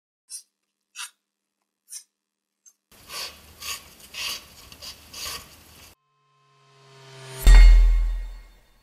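A knife is sharpened on diamond-coated sharpening stones, giving a run of gritty rasping strokes after a few isolated clicks, ending in a louder sweeping swell.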